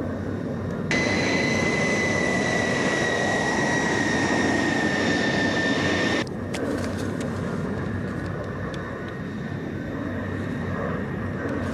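Inside the cabin of a passenger airplane in flight, the jet engines give a steady broadband roar with a high whine that cuts out partway through, leaving a slightly lower continuous drone, with no voices.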